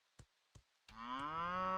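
A cow in the farming video game Echoes of the Plum Grove gives a long, clear moo after two short soft clicks, heard alone and fairly quiet.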